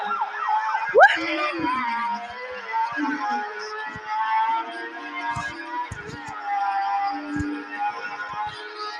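Police car siren wailing nearby during a motorcycle ride, a rising and falling electronic tone holding steady throughout, with brief voices and road noise beneath it.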